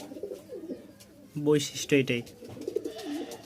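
A male Giribaz pigeon from Rajshahi gives two short, close cooing bursts, with someone talking quietly before and after.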